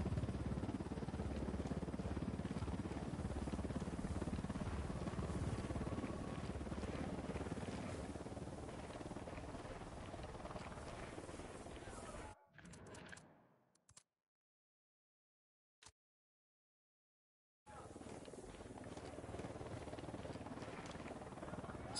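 In a video game, a helicopter's rotor and engine drone fills the first twelve seconds before cutting out into near silence, then returns faintly at the end.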